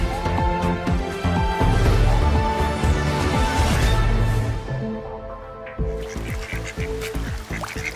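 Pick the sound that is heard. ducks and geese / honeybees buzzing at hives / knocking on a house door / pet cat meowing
ducks and geese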